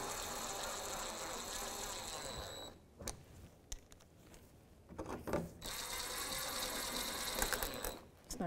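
Ratchet wrench with a 10mm socket tightening fender well bolts on a 2015-2020 GMC Yukon XL, a fast steady clicking run that pauses briefly, then resumes close and loud, with faint talk during the gap.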